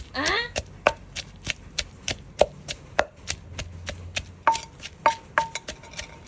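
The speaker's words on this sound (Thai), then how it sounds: "โขกพริกกระเทียมให้ละเอียด" Chili and garlic pounded in a mortar for a Thai fish dip, a steady run of sharp, evenly spaced thuds at close range, with no talking.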